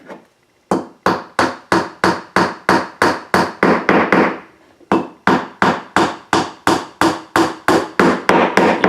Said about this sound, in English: the way that I'm hammering, I'm not like so, just so, and it's just a tap on the head, put it in like that